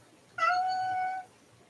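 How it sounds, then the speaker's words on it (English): A single cat meows indoors, one drawn-out, fairly loud call of under a second that stands alone against a quiet room. "My cat's visiting."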